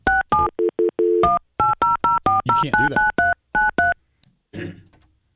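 A touch-tone telephone keypad dials a toll-free number during a radio show: a rapid run of about fifteen loud, clean beeps in uneven groups, followed by a brief voice near the end.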